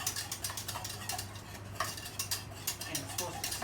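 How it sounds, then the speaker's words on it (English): A utensil stirs a hot pot of potato salad, scraping and clinking against the pot in a steady irregular rhythm with a low hum underneath, close and fairly quiet. "Let's stir this thing up."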